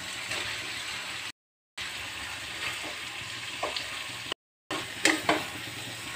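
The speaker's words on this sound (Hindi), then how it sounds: "मसाले अच्छे से भून चुके हैं, अब हम आलू को डालेंगे।" Potato pieces frying in an oil-rich tomato and spice masala for a North Indian aloo sabzi, a steady close sizzle with occasional stirring scrapes and spatters, broken by two brief silent gaps.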